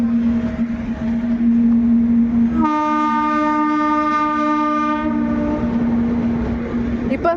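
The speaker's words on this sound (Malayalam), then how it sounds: "ട്രെയിനിന്റെ സൗണ്ടാ." A passing train, its loud horn blaring in one sustained blast over a steady rolling rumble of the wagons, heard close and continuous throughout.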